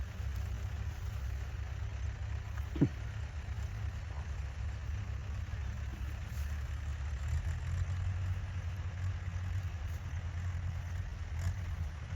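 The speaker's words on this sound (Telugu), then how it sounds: "ట్రాక్టర్ అయితే వచ్చేసింది" A tractor idles at a farm field where fodder sorghum has just been sown, ahead of rotavator work; a steady low engine rumble holds for the whole stretch at moderate distance, with one brief sharp click early on and no talk.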